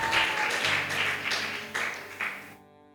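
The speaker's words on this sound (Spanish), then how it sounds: "Dale fuertes palmas de alabanza a Jesús de Nazaret." A church congregation claps loudly in praise during a Spanish-language sermon, a dense burst of applause that swells and then cuts off abruptly.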